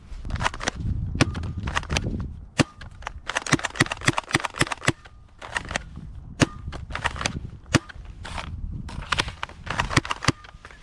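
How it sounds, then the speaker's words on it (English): A Dart Zone Max Volcanic Pro foam dart blaster fires ember darts in a quick series of sharp, close snapping shots, with softer handling clicks and rattles between them. "Now let's keep firing, but with some embers."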